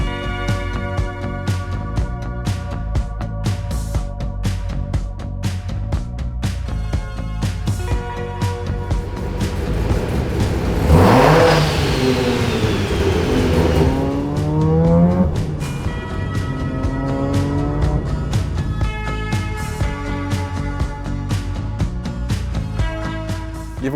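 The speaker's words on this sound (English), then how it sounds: "the only real way to get yourself into a high-powered Mazda rotary is the RX-8" A Mazda RX-8 with a rotary engine revs and drives, its buzzing engine tone rising and falling through several gear-like sweeps, loudest in a strong pull midway, over a constant background rumble.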